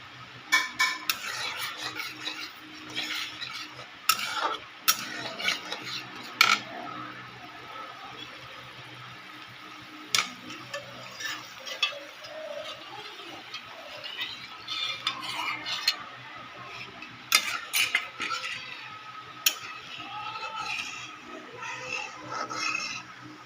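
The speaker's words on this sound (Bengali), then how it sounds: "এটা সবসময় নাড়তে হবে, নাহলে লেগে যাবে।" A mixture thickened with cornflour is stirred in a pan, the spoon scraping and clinking against the metal in an irregular rhythm, close and moderately loud, with no talking.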